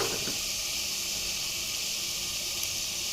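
Continuous loud sizzling hiss of onions and garlic frying in hot oil, steady and close with no pauses.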